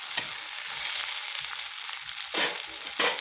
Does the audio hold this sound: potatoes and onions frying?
yes